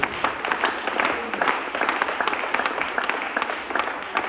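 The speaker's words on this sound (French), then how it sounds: "On acclame pour le Seigneur." Church congregation applauding in praise, sustained dense clapping from a crowd, fairly loud and continuous with faint voices mixed in.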